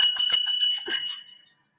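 A livestream bell sound effect rings out as a quick run of bright jingling strikes, loud and close, then fades away after about a second and a half, with no talk over it.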